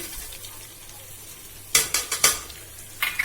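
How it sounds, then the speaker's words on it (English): Finely chopped onion hits hot oil while making Punjabi-style pasta: a steady low sizzle, then a burst of scraping stirs, about four quick strokes of a spoon against the pan, close up with no talking. "I am adding my finely chopped onion"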